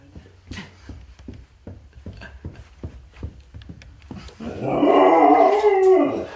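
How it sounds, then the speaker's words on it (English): A series of short, regular yelps or pulses repeats, then a dog breaks into a loud, excited, wavering howl that rises and falls before fading, as beer is poured. "did you hear your puppy dog is excited you're pouring the beer?"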